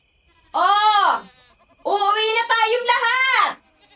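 Goats bleat as a sound effect, two long wavering calls, loud and close, with a short gap between them; the second call is longer.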